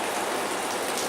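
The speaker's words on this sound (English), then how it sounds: "I accidentally sprayed underneath that roof and I got water dripping down over there." Water sprayed under a roof drips and patters down in a steady, dense, close shower with no voices over it.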